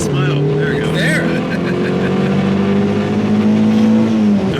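VW Cabriolet accelerating hard, its engine note climbing steadily under full throttle, loud and close inside the car, with a voice briefly heard near the start.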